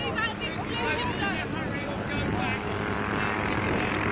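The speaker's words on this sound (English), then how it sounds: "Another helicopter." Helicopter passing over a seaside air festival on a clear June day, its rotor drone steady beneath the busy chatter of a crowd of spectators talking nearby.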